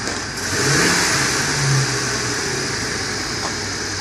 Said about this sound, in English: Got a V10 engine.